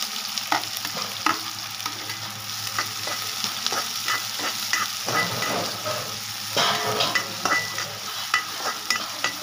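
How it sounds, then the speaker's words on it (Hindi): Onions frying in a pan of hot oil with whole coriander seeds and whole dried red chilies, sizzling steadily while being stirred, with frequent spoon scrapes and clicks against the pan throughout. "गैस को थोड़ा स्लो कर लेते हैं और अब मैं इसमें डाल दूंगी प्याज।"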